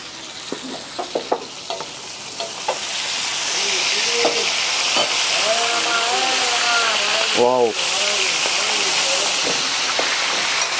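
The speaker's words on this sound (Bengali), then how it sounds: "সরিষার তেল দিয়ে মাছ ভাজা হবে।" Hilsa fish frying in hot mustard oil gives a loud, continuous sizzle and hiss that swells after a few seconds and holds steady. Brief voices and a clatter are heard early on.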